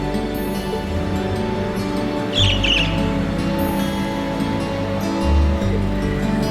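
Bird chirping in The Legend of Heroes: Trails of Cold Steel, a few brief high tweets over a steady layered game music and ambience bed, faint and partly masked.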